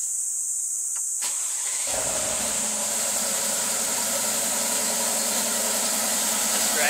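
Mercedes-Benz G63 Wald Black Bison cold start: a short click, then the engine catches and settles into a loud, steady idle heard close up with no talking.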